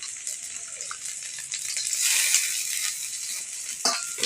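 Whole cloves, cardamom and cinnamon fry in hot oil with boiled potato for a green banana kofta curry, giving a steady close sizzle with scraping stirs and a few sharp spatters.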